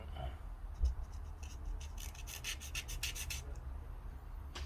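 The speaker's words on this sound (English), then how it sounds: "the sanding pad is going to have to come out for the first time today" Close, quiet rasping strokes of a sanding pad on a plastic model aircraft kit part, a quick series of short scrubbing rubs back and forth, after a small knock.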